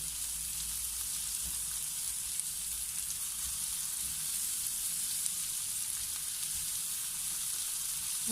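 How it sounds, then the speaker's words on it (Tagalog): Onions and ginger sauté in a pan with a continuous, even hiss of sizzling oil, unbroken and moderately quiet throughout. "I'm going to saute first the onions and the ginger."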